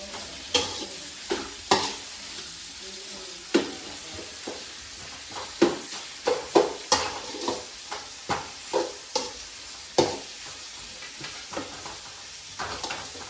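Onions and chilli fry in hot oil in a pan, a low sizzle running under repeated sharp scrapes and clacks of a spoon stirring against the pan at an uneven pace.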